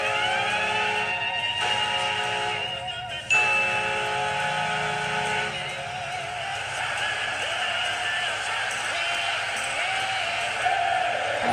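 Minnesota Wild NHL goal horn sounding in an arena, a loud sustained siren-like blast with a warbling, bleating tone holding steady for several seconds over crowd noise.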